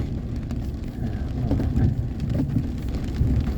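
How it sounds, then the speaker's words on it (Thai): Rain falling steadily on a road outside, a continuous dense patter with a few louder drop hits, heard alone. "ตอนนี้ฝนก็ยังตกอยู่นะครับเนาะ"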